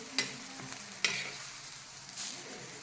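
Potato paratha for a fasting meal, flipped on a pan and frying in ghee: a few sharp scraping clicks of the turn, then a soft, steady low sizzle, fairly faint and close, with no talking.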